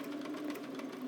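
A sewing machine stitches yellow quilt fabric for a sea plant block, a steady close mechanical whir with a fast needle rhythm running continuously for about a second, no voices.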